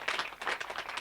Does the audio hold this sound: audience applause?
yes